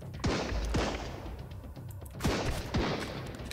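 Gunfire in the survival game Sunkenland: two pairs of sharp, loud shots ring out in quick succession over a busy, noisy background, with a brief lull between the volleys.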